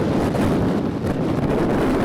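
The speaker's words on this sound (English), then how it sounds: "fueled by those howling Santa Ana winds" Howling Santa Ana winds during a Los Angeles wildfire roar loud and steady as broadband gusting blasts across the microphone, with no voices.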